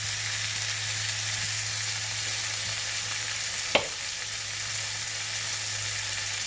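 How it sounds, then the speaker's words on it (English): Squash sautes in a pan with a steady, even sizzle that carries throughout, broken once by a single brief knock or clink near the middle; no one talks. "While this is sauteing"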